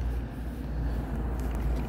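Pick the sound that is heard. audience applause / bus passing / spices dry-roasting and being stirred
bus passing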